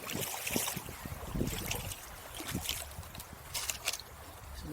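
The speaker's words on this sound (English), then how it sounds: "And the sound of the trickling water in the background" A stream trickles steadily in the background, a soft constant wash of flowing water with faint splashes and bumps, fairly quiet and outdoors, with no talking.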